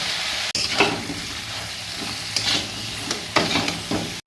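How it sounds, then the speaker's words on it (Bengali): Banana pieces are stirred with turmeric and salt in a hot pan: a low, steady frying hiss broken by several distinct spatula scrapes, loud and close, with no voices. "এবার কলাগুলোকে ভালো করে নাড়িয়ে দেবো, হলুদ আর নুনটা ভালো করে এতে মাখিয়ে দেবো"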